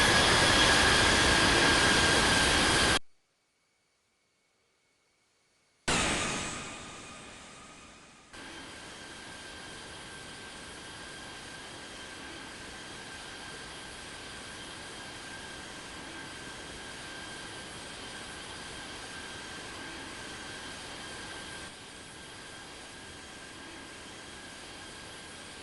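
Boeing 787 jet engines in the Infinite Flight game at Sydney, a steady broad roar that cuts out briefly, then resumes and holds level for a long stretch.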